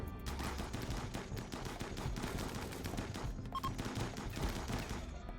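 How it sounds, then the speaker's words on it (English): Light machine gun fire in the RimWorld video game, a dense, continuous rattle of rapid shots that stays loud and sustained throughout, with no talk over it. "That's something you don't hear every day on my end, an LMG."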